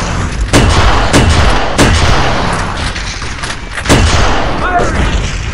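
Several sharp gunshot bursts from the video game Halo 1 SPV3 crack out at irregular intervals over a dense, loud battle din, with voices faintly mixed in.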